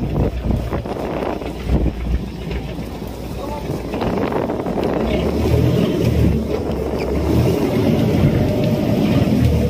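Strong wind buffets the microphone on a moving fishing boat on the Pacific Ocean, with a low engine rumble growing steadier and a voice briefly audible.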